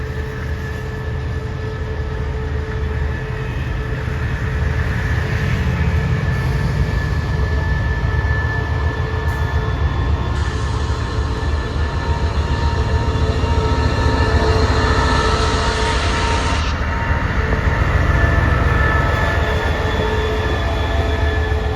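A train rolls slowly and steadily into Samsen railway station in Thailand, with a continuous low rumble of wheels on rails and faint high squealing tones.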